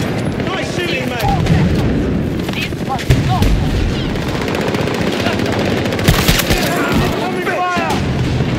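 G428 automatic rifle fire in the Battlefield 2042 shooter, rapid bursts running almost continuously over a dense battlefield din with scattered explosions, loud and close, while voices call out now and then.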